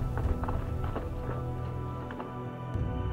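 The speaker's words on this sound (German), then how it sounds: "Gut 500 Kilometer reitet sie mit einer Eskorte durch Feindesland zum rechtmäßigen König" Horses ridden by an escort through hostile country in a historical reenactment, their hooves clip-clopping in a quick, uneven rhythm over a low rumble and steady background music.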